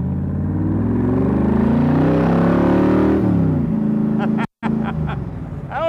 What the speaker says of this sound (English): Let's see how the accelerator feels here.